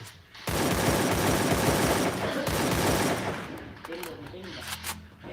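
Gunfire in the video game Free Fire: a dense, sustained burst of rapid automatic shots lasting several seconds, loud and continuous, with a voice speaking over it near the end.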